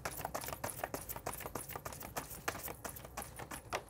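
A tarot card deck is shuffled vigorously up close, giving quick bursts of crisp riffling and flapping card sounds in an uneven, energetic rhythm with no voice.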